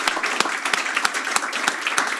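An audience at a panel event applauds the panellists, with dense, steady clapping close by and a few sharper individual claps standing out at regular intervals.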